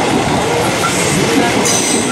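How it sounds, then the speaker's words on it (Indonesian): An eight-car Tokyo Metro 6000 series commuter train on a KRL line rolls past close by, a loud continuous rumble with a brief high wheel squeal near the end. "terdiri dari 8 kereta. Tokyo Metro 6000."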